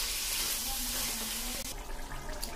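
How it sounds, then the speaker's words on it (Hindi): Water is poured into a pan of frying black chickpeas, making a loud, continuous hiss and sizzle that fills the clip and eases slightly toward the end. "चने को हमने फ्राई कर लिया, इसमें हम पानी डालेंगे।"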